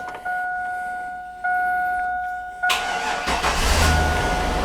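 A car engine cranks and catches after steady tones, then settles into a loud, rough running idle with a broadband roar close by.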